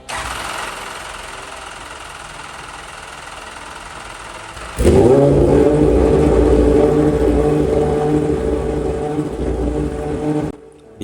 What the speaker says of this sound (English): a run-up consists in warm up the engine to make sure that there is no leaks